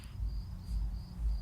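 Crickets chirping outdoors on an evening, a steady faint insect trill over a low rumbling background, with no talking.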